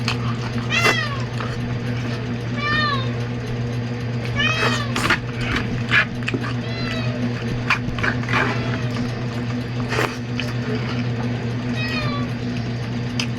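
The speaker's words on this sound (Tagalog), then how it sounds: "Pusa ko mga idol, nanghingi mga idol." A cat meows repeatedly for food, several short rising-falling calls close by, over a steady background hum, with a few clinks and other small noises in between.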